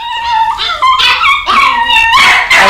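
A dog named Rebel at Battersea Dogs Home, waiting for a new home, lets out a series of loud, close whimpering yips and whiny howls in several rising and falling bursts.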